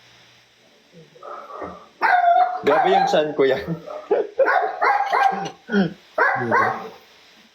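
Dogs bark in sharp, repeated bursts, mixed in with a person talking nearby; the barking sounds somewhat distant, as if coming from outdoors.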